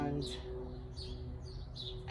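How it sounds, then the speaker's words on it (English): Birds chirping outdoors on an overcast day in Northern California, several faint, short tweets repeating at intervals over a low background hum. "I hear the birds chirping."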